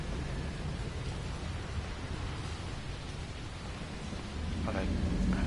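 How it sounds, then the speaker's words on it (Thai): Steady rain hisses in the video game The Evil Within, a continuous even downpour with a low rumble underneath, swelling slightly near the end. "ฝนตกนะ"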